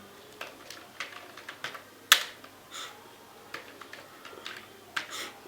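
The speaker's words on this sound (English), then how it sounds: "let's type in anything" Several light, separate clicks of someone typing on a computer keyboard, with one sharp louder tap partway through, in a quiet room with no voices.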